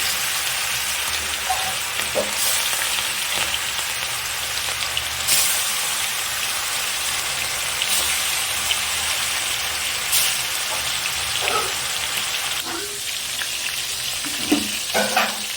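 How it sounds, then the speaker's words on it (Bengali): Bhola fish pieces frying in hot oil, a continuous dense crackling sizzle like rain on a surface, with occasional pops and spatters standing out throughout. "আস্তে আস্তে একটা করে মাছ একটা করে তেলে দেওয়া হয়।"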